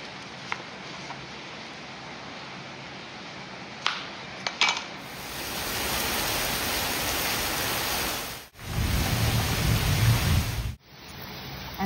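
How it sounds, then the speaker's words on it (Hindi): Heavy rain comes down in a dense, steady roar, loud and close, broken by a few sharp clatters early on and two brief dropouts. "आज बहुत जोर से कटक वर्षा होची"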